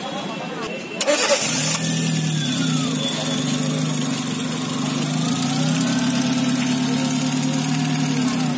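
A Chevrolet Spark engine cranks and catches after a brief starter whir, then settles into a steady, fairly close idle that holds for several seconds.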